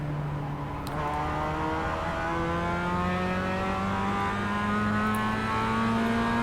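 Race car engine in iRacing held at high revs down a straight, a steady loud drone with rising harmonic tones as it accelerates, continuous and close with no talking.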